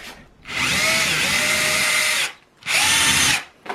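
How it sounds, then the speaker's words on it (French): A power drill bores into a ceiling during home DIY work, running loud and steady for about two seconds, pausing briefly, then whirring again in a second shorter burst. "ne faites pas comme moi, commencez pas par percer du plafond, commencez par des murs plutôt"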